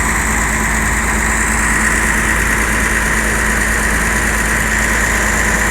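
An ALS parcel transport bus, a goods bus rather than a passenger coach, idles with a loud, steady engine drone and hum that stays close and constant without changes in speed.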